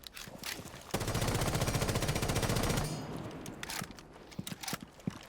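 An automatic weapon in Rainbow Six Siege fires a long, rapid burst of about two seconds, followed by scattered quieter clicks and thuds.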